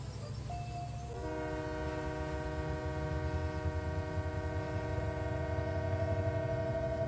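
A train horn sounds near a farm beside a train yard, blaring a long, sustained chord over a low rumble of rolling railcars. A faint bell or signal pings at regular intervals, and the whole sound is loud and close.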